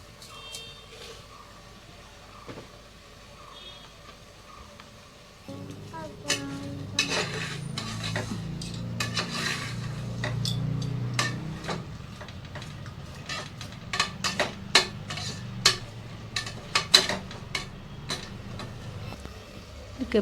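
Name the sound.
frying and stirring spice paste in a pan for chicken palav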